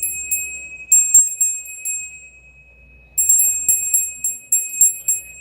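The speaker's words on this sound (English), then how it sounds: "My Buddha bell." A small Buddha bell is struck repeatedly, producing bright, high ringing tones in two clusters of quick strikes separated by a short pause, clear and close with no talking.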